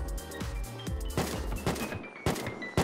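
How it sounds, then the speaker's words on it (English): Gunfire in the survival game Unturned, a rapid run of several sharp shots with bursts trailing into brief pauses, loud and close, no talking. "I'm getting shot at."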